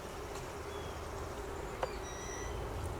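Honeybees from a swarm buzz steadily around a nuc hive, with a continuous, even hum and a few brief higher whines from single bees passing close by.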